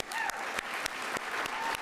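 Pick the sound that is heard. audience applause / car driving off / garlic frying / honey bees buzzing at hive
audience applause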